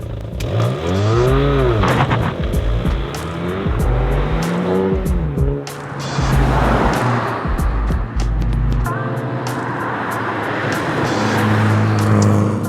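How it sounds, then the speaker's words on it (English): A Hyundai i20N engine hums and revs while driving, pitch rising and falling through gear changes, with road and cabin noise throughout. "I thought I'd go for one last drive in this car"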